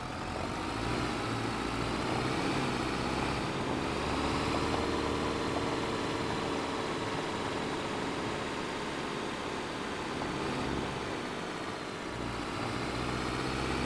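A tractor engine drones steadily throughout a farming video game, a continuous low rumble with a broad, even mechanical hum and no pauses or talk.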